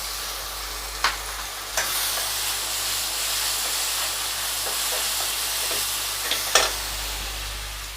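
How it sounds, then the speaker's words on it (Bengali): Ginger, garlic, onion and chili spice paste frying in oil with salt, giving a steady loud sizzle and hiss broken by a few sharp clinks of a stirring utensil. No voices are heard. "আর পরিমাণ মতো নুন দিয়ে আমি এখন মশলাটাকে ভালো করে ভেজে নেব।"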